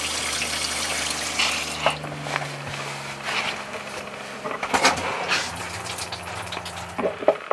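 Pink RV antifreeze running from a faucet while an RV water system is being winterized, giving a steady close rush of flowing liquid with a low hum early on and some clunks and splashes near the end.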